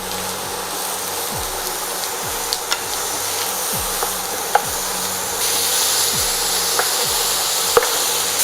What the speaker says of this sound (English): Once this is hot, we're going to add in our mushrooms. And we're going to saute it.